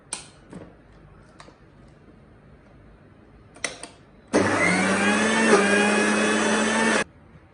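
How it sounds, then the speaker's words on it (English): Chopped ginger and green chilies in an electric grinder, preceded by a few soft taps and clicks, then a loud steady whirring grind running for about three seconds before stopping abruptly. "the ginger and the green chilies. Chopped green chilies. And let's put this to grinding"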